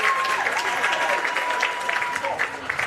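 A stadium crowd at a football match between the Pararoos and India applauds and cheers a goalkeeper's save, a steady wash of clapping while a commentator talks over it.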